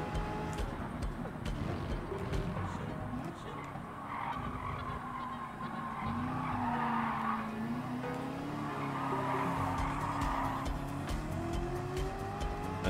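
Race cars in the video game Gran Turismo 7, from a Nissan sports car collection, drone with rising and falling engine tones, with tire skids and squeals mixed in throughout, steady and moderately loud.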